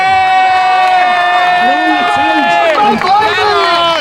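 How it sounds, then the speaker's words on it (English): Crowd cheering and shouting at a Glasgow unity rally in Scotland, a loud continuous roar of voices with whoops rising over a sustained noisy backdrop. "Big applause for them."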